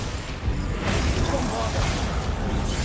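A Confringo fire spell bursts inside Hogwarts Legacy, a dense whooshing blast layered over busy combat effects and game music that keep going throughout.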